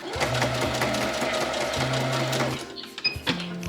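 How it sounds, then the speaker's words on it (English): A sewing machine stitches bag straps near the outer edge, running steadily forward, then pausing briefly and running back, loud and close with no talking. "we can sew here close to the outer edge, and I will sew one time and then back again to make it extra secure"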